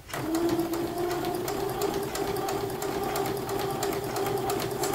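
A sewing machine runs continuously while stitching a dart along a chalk line, its motor whirring and needle chattering at a fast, steady pace close by, starting abruptly and holding without pause.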